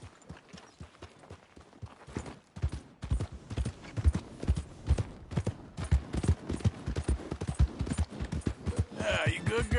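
Horse hooves clip-clop in Red Dead Redemption 2 in a steady, loud, close rhythm that quickens toward the end. Faint voice-like sounds sit in the background.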